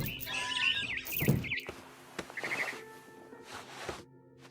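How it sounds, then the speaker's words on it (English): Barn swallow chirping outside a window in the video game What Remains of Edith Finch, a run of quick, high twittering calls over soft ambient game sound, fairly faint and with no speech. "Then I heard chirping outside my window. It was a barn swallow going back to her nest."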